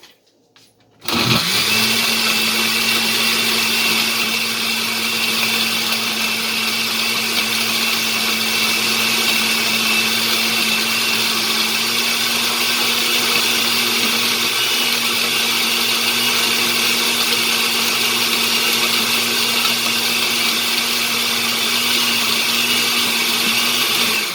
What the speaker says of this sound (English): I have to blend it fine because the dates are hard to blend